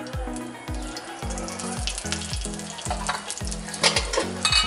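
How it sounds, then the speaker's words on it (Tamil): Mustard seeds and dried chillies frying in a hot pan, with a loud, close crackle and sizzle and small pops that grow busier toward the end. No one speaks over it. "ஸோ இதுக்கு வந்து கடுகு போட்டுக்கோங்க. காஞ்ச மிளகாய் போட்டுக்கோங்க."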